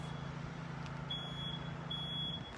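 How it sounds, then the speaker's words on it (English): Outside an abandoned 1920s house, an alarm gives thin, high beeps in two evenly spaced pairs, faint and distant over a steady low hum and background noise. "Now, I don't know if that alarm is for this house."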